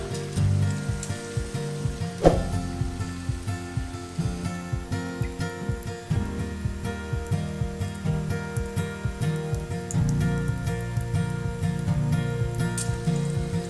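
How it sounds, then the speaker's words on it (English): Steady, crackling sizzle of Japanese karaage chicken deep frying in hot oil, continuous and fairly close, with a low rhythmic thumping underneath. "while frying chicken"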